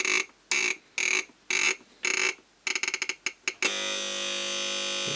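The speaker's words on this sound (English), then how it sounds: "It has an alarm, which you can turn off here at the top of the slide." A Krups 1970s-style flip clock's electronic alarm beeps loudly in short bursts, speeds into rapid pulses, then turns into a steady continuous ring before stopping.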